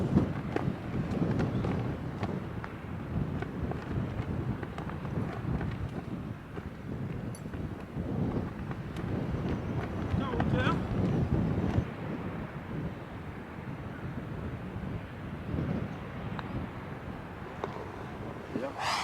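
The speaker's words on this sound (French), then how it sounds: "Mais il y a du vent et allez." Steady wind buffets the microphone on a seaside links golf course at Royal Portrush, a continuous low rumble over the whole stretch with occasional faint sounds beneath.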